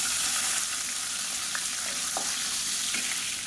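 Halved shallots sizzle steadily in hot oil with mustard seeds, fennel and curry leaves, a continuous close frying hiss with a few faint stirring clicks.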